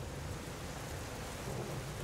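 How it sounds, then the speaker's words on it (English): Hail pelts down dense and loud during a motorcycle ride in Wales, a continuous broadband roar and patter with no gaps across the whole moment, close to the rider. "Usually hail doesn't last long."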